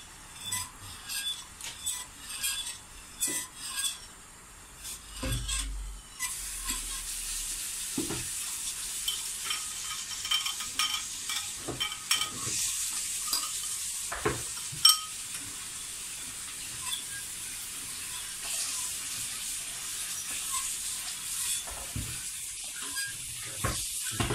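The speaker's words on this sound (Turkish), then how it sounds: "Karıştırarak yavaş yavaş." A spoon stirs trotter soup (paça çorbası) in a pot in slow strokes, with scrapes and clinks over a steady simmering hiss that gets stronger after the first few seconds. The sound is close, with no talk.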